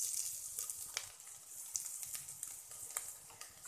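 Asafoetida and grated ginger sizzle in hot oil with a faint, steady hiss, broken by a few soft crackles and stirring taps.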